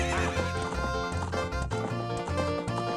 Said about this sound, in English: think I spammed the horse spanking a little bit too much there